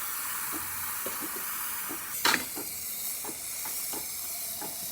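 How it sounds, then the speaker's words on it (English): The steam wand of a serviced DeLonghi coffee machine hisses steadily at close range, with light clicks and a brief sharper burst partway through. "The steamer is working perfectly fine"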